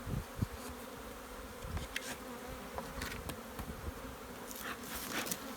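Honeybees drone steadily inside a hive box. The buzzing is dense and continuous, fairly faint, with occasional bees passing closer.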